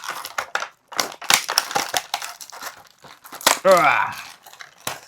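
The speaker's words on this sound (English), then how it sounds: "Sorry for the plastic noise." Plastic packaging around a Heroclix Hulk figure crinkles and crackles in bursts close by, with a person talking in between the rustling.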